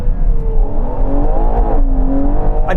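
A Ferrari Purosangue SUV with a 725 hp engine revs loudly and close, rising and falling in pitch over a few seconds with a sharp flare at the end.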